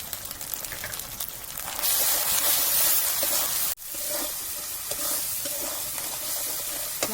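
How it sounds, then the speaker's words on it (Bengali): Ground spices with black pepper, dried chilli paste, turmeric and salt frying in a pan for a China duck curry: a close, continuous sizzle with stirring, swelling louder midway, briefly cut off, then hissing on steadily. "মশলাটা ভাজা হয়ে গেছে বন্ধুরা, মাংস দিয়ে দেবো।"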